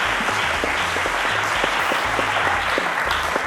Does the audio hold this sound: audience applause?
yes